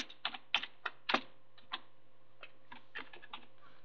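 Someone types in the chat of the online game agar.io on a computer keyboard, giving a quiet, close burst of irregular clicking keystrokes that thins out to scattered taps, with no talking.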